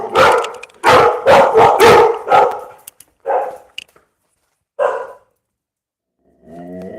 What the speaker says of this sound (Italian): non lo so a che abbaiano i miei cani